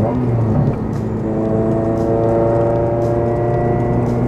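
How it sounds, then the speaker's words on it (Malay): Honda Integra Type R DC5 engine droning loud and close from inside the cabin, a sustained steady rev with a strong harmonic hum while downshifting from sixth to fifth and fifth to fourth. "kalau kita nak downshift pun agak senang juga belajar dengan kereta ni. 6 ke 5 contohnya, dan 5 ke 4"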